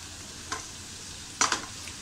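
Cooked shela rice is stirred and fried on a tawa over low heat for tawa pulao, with two or three brief scraping stirs over a faint, steady sizzle, and no voices.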